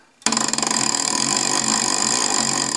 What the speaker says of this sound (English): That noise is just the spool here rubbing against this plastic on these little stoppers here.